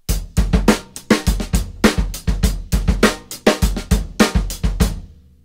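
A drum kit plays a short groove in 4/4 with punchy kick and snare hits under a steady cymbal pulse, crisp and close, with no talking.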